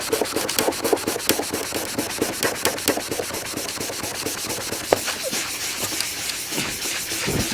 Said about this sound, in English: Kind of want to buff the whole panel to kind of blend it in a little bit.